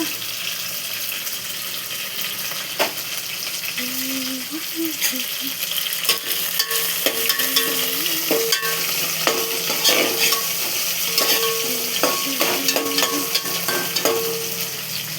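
Curry leaves fry in hot oil with a steady, close sizzle, broken by scattered scrapes and clinks of stirring, and no voices.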